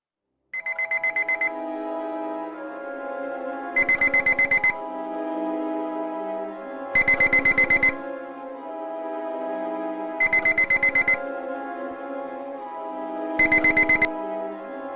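A telephone rings after a number is dialed, in an Urdu film scene. Five loud, bright electronic ring bursts repeat about every three seconds, with a steady tonal ringback hum between them and no talk.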